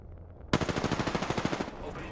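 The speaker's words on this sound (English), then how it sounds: "The enemies are shooting at me." Enemy automatic gunfire in Apex Legends: a rapid, evenly spaced burst of about a dozen sharp shots, loud and close, breaking out of near silence and lasting just over a second.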